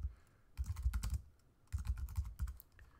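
Computer keyboard typing of a group name in Cinema 4D, heard as two close bursts of rapid keystrokes separated by a short pause, clear and alone with no talk.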